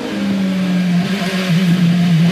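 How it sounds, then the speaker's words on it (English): IndyCar race car at Sonoma in 2006 downshifting hard into the turn 9 chicane, a loud, close engine whose pitch steps down between gears and then drops again near the end, steady throughout with no voices. "now you see some heavy downshifting as they head for that turn 9 chicane"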